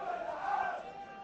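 Crowd of spectators at a hot-weather Tunisian league football match in Tataouine, a brief sustained roar and chanting from the stands heard at a distance, fairly faint and steady.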